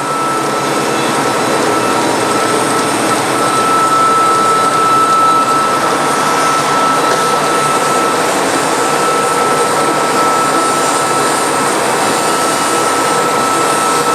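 Model 2054 bandsaw cutting slowly through a rubbery anti-fatigue mat, a loud, constant whirring whine with a steady high tone held for the whole stretch, no pauses and no talking.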